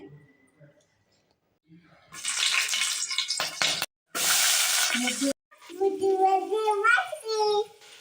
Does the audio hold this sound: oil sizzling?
yes